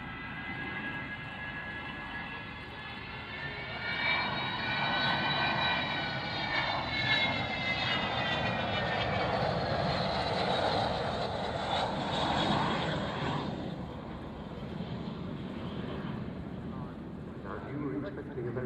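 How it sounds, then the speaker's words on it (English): Avro Vulcan jet bomber flying past at an airshow, a loud sustained roar that swells and holds with a rising whine, then eases off as it passes. A commentator talks over it throughout. "Expecting a very loud noise from the Vulcan, well, she can sneak up on you as well."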